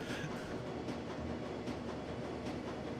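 Rumbling train ride in the video game Shadowrun: Dragonfall, a steady low rolling drone with faint rhythmic rail clicks, quiet and continuous with no voices.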